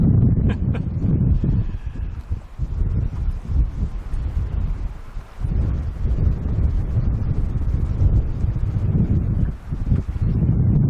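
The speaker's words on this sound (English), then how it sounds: "our first big windy night at anchor" Steady roaring wind buffets the microphone in heavy gusts on a boat anchored at night in Waiatt Bay, a constant low rumble that swells and dips over several seconds.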